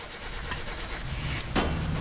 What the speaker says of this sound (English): Attempt 2 at starting the car.